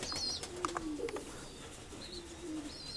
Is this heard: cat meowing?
no